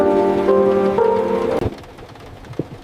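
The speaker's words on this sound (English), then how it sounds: "rain is starting." Rain begins to fall in a jungle during a family outing. A sustained tone fades out and gives way to a soft, steady hiss of rainfall with a few faint taps, and nobody speaks.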